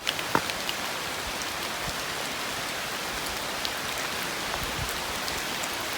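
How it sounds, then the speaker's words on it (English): Steady heavy rain pours down on a forest hiking trail, the Loyalsock Trail, in a dense, continuous hiss, with a few louder drops striking nearby surfaces early on. "the rain is starting to come down pretty heavy again"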